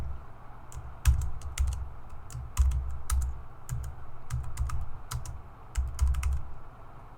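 Steady typing on a computer keyboard while writing code for a simple ball-tapping game, clustered key clicks with brief pauses and heavier thumps, close and alone.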